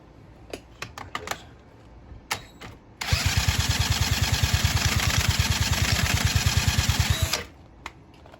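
A chopper motorcycle engine on choke cranks over with a fast, even chugging for about four seconds, loud and close, after a few clicks and knocks, then stops without catching.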